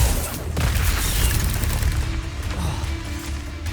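Spell impacts from Depulso and Accio cast in Hogwarts Legacy, a dense run of booming, crashing blasts over a steady low rumble, loud and close with no talk.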